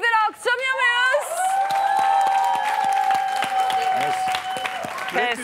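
In a studio game show, the girls' team claps for the boys: a brief voice, then a sustained tone, with steady clapping and crowd noise running underneath.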